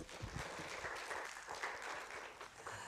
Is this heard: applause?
yes